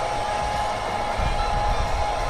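A hair dryer warming Thunderbird rubber trim blows steadily at close range, a constant loud whooshing hum with no breaks.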